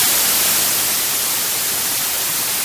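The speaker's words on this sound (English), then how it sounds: "This is white noise." Steady white noise played as a sleep aid hisses loud and unbroken, a flat, even static with no pauses or other sounds.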